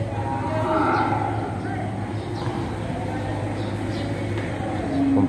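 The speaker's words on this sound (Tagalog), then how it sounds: "narinig naman ang kalabaw" A water buffalo (carabao) lows in a rural setting, a fairly loud, drawn-out moo rising over steady outdoor background noise and faint nearby voices.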